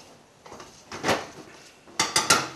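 Drained noodles for turkey soup are mixed with a little green olive oil in a pot, with soft scraping at first, then a quick cluster of three bright metal clinks of a utensil against the pot near the end.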